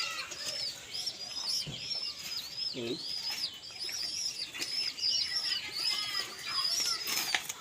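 A young Giribaz pigeon's wings flap in quick bursts, with a brief low coo partway through and steady chirping of small birds in the background.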